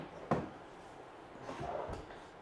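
A toe-kick drawer set under a kitchen cabinet in an off-grid tiny home pops out with a short sharp knock, then a softer slide and a second faint thump.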